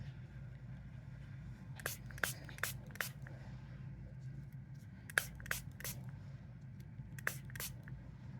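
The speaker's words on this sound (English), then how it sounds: "you want to make sure you spray each and every layer, and you want to get it good and wet" Short hissing bursts of a spray bottle wetting leather flower layers, fired in quick clusters of three or four with pauses between, close by over a steady low hum.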